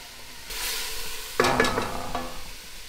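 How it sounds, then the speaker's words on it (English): Raw cabbage hits a hot pan with onion, setting off a sudden burst of sizzling that carries on as a loud, close crackle, with a sharp scrape of stirring partway through. "now we put the cabbage. This one, it's raw. And you saute"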